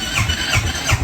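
A motorcycle engine starting up on a rainy day, a short rough mid-pitched churn with a squealing edge, close and fairly loud, no talk over it.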